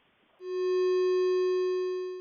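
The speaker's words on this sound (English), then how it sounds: "The tone that was produced using pure tones in Audacity sounded like this." A steady computer-generated pure tone, made in Audacity, starts after a brief hiss and holds evenly, loud and unwavering, for about two seconds.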